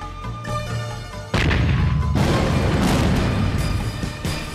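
A cannon fires in a Qing-dynasty TVB costume comedy: harmonic music plays, then a sudden loud boom bursts in, followed by a sustained heavy rumble that fills the rest of the clip.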